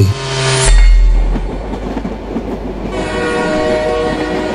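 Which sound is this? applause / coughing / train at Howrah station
train at Howrah station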